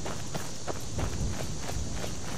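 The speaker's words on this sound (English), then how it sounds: "This is with glass boots, as you can hear." Footsteps of glass boots in Skyrim with a footstep sound overhaul mod, about five or six evenly spaced, sharp steps heard close over a constant ambient hiss.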